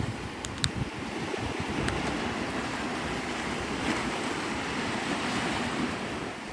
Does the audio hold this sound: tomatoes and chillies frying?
no